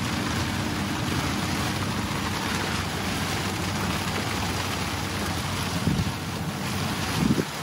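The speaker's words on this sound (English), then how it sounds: "There's the gust front." Strong wind from an arriving storm gust front roars steadily and buffets the microphone, a constant heavy rush with a few sharper gusts near the end.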